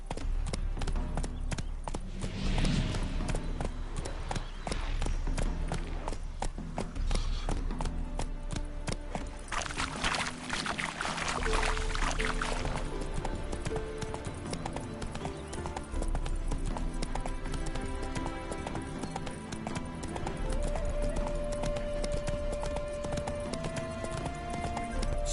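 Hooves of Roach, Geralt's horse in The Witcher 3, clip-clop steadily throughout, with game music and ambience layered around them and no talking.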